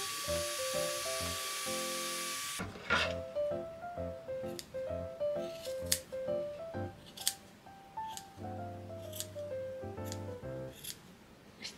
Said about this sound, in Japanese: こんな感じで形が整ってきたらカットワークバサミで細かく細かくカットしていきます。